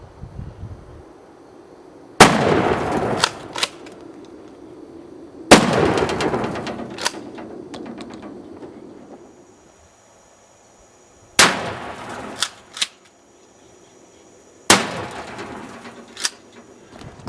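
Benelli Nova 12 gauge pump shotgun firing 2 3/4 inch buckshot and then Magnum buckshot, with four loud sharp blasts spaced a few seconds apart, each followed by a ringing echo and pump-action clacks between shots.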